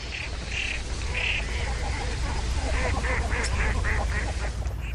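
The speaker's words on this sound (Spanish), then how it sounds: "Cercetas, porrones y azulones, entre otras anátidas, llenan durante la época fría el vacío dejado por las aves que migraron en otoño." Teals, pochards and mallards calling on a winter wetland: a scatter of brief nasal duck calls, some in quick runs, rising over a dense, steady background, with a narrator speaking over them.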